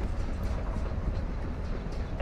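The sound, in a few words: slow train moving in a video game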